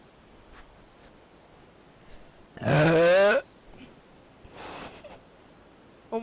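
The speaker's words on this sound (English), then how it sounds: "Okay, I'm gonna burp soon." A loud, drawn-out burp after drinking cola, about a second long and close up, followed by a shorter, softer second burp.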